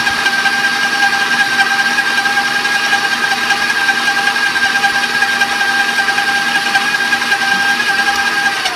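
Electric mixer whirring steadily at high speed while blending cheesecake batter for a Polish cheesecake, a loud continuous motor hum with a high whine, heard alone without talk.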